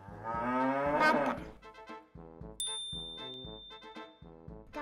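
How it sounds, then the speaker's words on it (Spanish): A cow lets out one long, drawn-out moo, followed by a light, bouncy musical tune with chiming notes. "Vaca."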